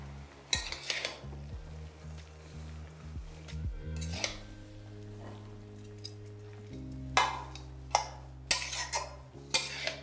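Red amaranth greens (laal saag) are stirred in a pan for a Bengali vegetarian recipe. A utensil clinks and scrapes against the pan in irregular strokes over a soft background sizzle, close up and with no talking.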